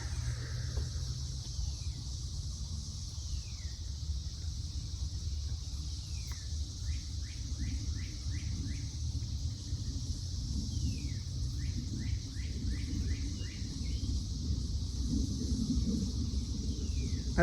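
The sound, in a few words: birds singing outdoors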